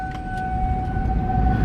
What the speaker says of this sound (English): Tornado siren test, guys.